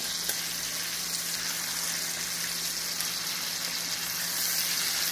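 Pork chops sizzling in a skillet just after being flipped, a constant bright crackling hiss with a faint low hum beneath, steady and nearby without any voices.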